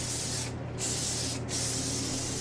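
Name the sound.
Sebastian Shaper Plus hairspray being sprayed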